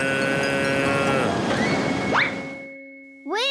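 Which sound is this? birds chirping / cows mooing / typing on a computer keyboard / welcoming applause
cows mooing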